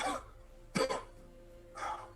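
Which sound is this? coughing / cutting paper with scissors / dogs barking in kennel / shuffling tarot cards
coughing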